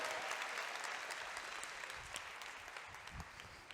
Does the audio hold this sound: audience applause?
yes